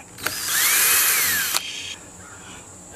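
A cordless power drill backs a screw out of a homemade TV antenna build, one loud sustained whir with a rising and falling pitch that stops abruptly, followed by quieter mechanical hiss.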